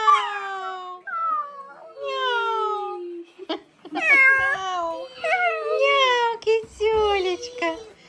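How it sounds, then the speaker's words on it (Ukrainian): A cat gives a close series of drawn-out, wavering meows, about six or seven calls with short pauses between them. "Така рожева кітька? Та? Кажи м'яу."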